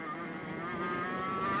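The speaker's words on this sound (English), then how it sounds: "You can really hear the engine RPM lift as he comes onto the straight there" A 100cc racing kart engine with no gearbox, at a 1999 Australian CIK championship race, buzzes steadily and climbs gradually in pitch as it accelerates.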